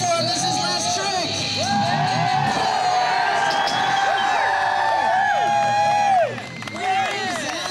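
Spectators at a 1995 BMX contest cheer, whoop and shout for a rider's final trick, a loud crowd roar with children's high voices and some clapping, surging briefly near the end.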